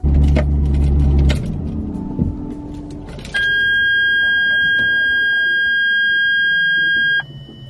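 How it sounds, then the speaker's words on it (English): Inside a Ferrari 360 Modena, the seatbelt warning sounds as a steady, piercing electronic tone held for about four seconds after a rumbling engine settles, loud and close in the cabin, then cuts off abruptly. "that is a really annoying seatbelt noise"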